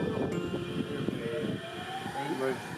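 Japanese train running between Tokyo and Osaka, a low rumbling rail drone with faint tonal whines, moderately quiet, with voices talking over it.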